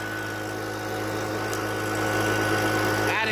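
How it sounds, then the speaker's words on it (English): A gasoline leaf blower runs steadily at close range, blowing air into a burning tree stump, a constant droning engine whine with a faint sharp tick near the end and no voices. "So I got the leaf blower going in there,"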